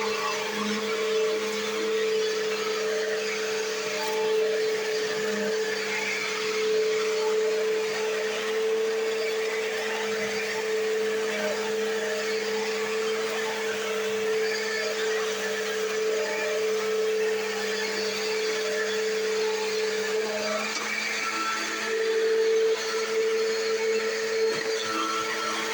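A Eureka Whirlwind Lightspeed vacuum cleaner runs steadily with a loud, constant motor whine and airflow hum, close by and uninterrupted.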